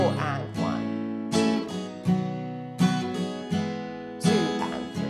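Guitar strums chords of a song, with accented strokes on beats 2 and 4 among lighter strums, ringing clearly and close in a steady pattern.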